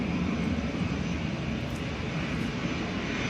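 A Ryanair airliner at windy Manchester Airport roars loudly and steadily, a dense broadband engine rush sustained at close range with no voices.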